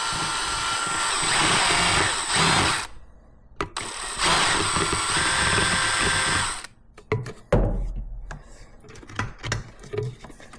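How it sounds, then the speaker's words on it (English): A power drill bit enlarges a hole in a 1952 Chevy truck brake part in two loud sustained whining bursts, then stops, followed by quieter clanks and handling sounds. "So I'm gonna use the same drill bit"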